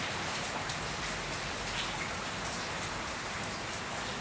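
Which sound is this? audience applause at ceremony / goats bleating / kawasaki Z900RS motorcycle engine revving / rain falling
rain falling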